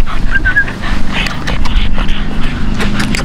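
Bully breed puppies close by, with soft whimpering and panting and some shuffling movement.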